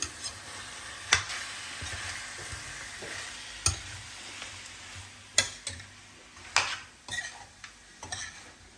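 Chicken frying with masala in a pan, a low steady sizzle under repeated sharp clicks and scrapes of a spatula stirring against the pan, irregularly spaced throughout.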